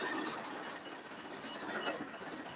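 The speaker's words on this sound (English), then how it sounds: "1055 runs around the train for another scheduled departure" 1,000 horsepower diesel locomotive 1055 of a scenic railroad at North Conway runs on rails with a soft, steady rumble and faint clatter, heard at a distance and fairly quiet.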